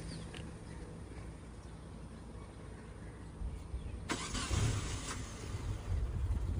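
Proton Saga car engine starting without auto choke, a steady low mechanical rumble that swells louder partway through as the engine catches and runs, fairly close.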